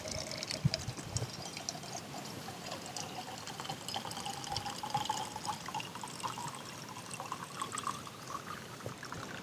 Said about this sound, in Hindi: मैं फिर से पानी डालता हूँ इसमें।